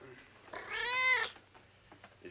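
A single drawn-out cat meow rising and then falling over about a second, heard at moderate level, with faint background sounds from an old 1951 film scene.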